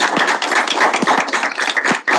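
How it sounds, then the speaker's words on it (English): A Senate audience claps to welcome President Inch, a small group of hands giving close, uneven rapid claps for about two seconds, with a few sharper individual claps standing out. "Please welcome him with a loud applause."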